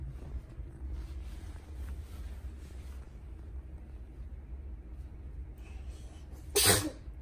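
A single sharp human sneeze indoors, brief and loud near the end against a low rumbling background.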